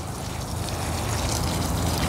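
Fertilizer water splashes steadily onto garden plants as a continuous close, hissing trickle and pour, with no voices.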